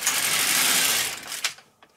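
Mechanical whirring rush of a knitting machine carriage sliding across a row of needles, loud and continuous for over a second, then a sharp clack and fading clicks as it stops.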